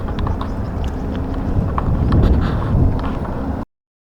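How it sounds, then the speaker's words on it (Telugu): A bullock cart rolling along a rural road, steady clopping hooves and rumbling wheels heard fairly close under strong wind buffeting on the microphone, growing slightly louder before cutting off. "ఇప్పటికీ ఎద్దుల బండ్లు వాడుతున్నారు. చూడండి వస్తుంది ఒకటి"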